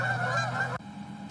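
Geese in the snow let out a loud honk, a single drawn-out nasal call that cuts off sharply, close by and without talk.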